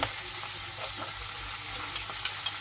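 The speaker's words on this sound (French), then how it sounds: "on laisse bien griller comme ça" Chicken sizzles as it browns in a pan, a dense, even frying hiss with a couple of small pops near the end, close and steady with no voices.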